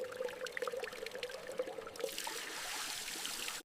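Animated water pours and trickles during foot washing in a cartoon, a soft steady stream running close and quiet, with no one talking over it.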